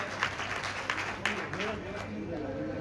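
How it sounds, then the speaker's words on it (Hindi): Audience applause at a Gahoi Samaj community meeting, a steady wash of clapping from a crowd with a few louder claps standing out, while a voice talks over it partway through. "इस बात के लिए तालियां।"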